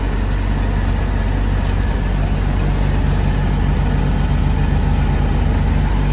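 A 1959 GMC 100 Stepside pickup truck's engine idles with a smooth, steady low rumble, loud and close, continuous throughout with no speech.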